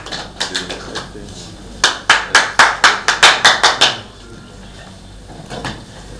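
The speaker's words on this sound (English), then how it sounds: "Give them a round of applause, ladies and gentlemen." Clapping at a boxing press event, starting with a few scattered claps, then a quick burst of about a dozen loud, close, rhythmic claps that stop abruptly, followed by a quieter stretch with a few faint claps.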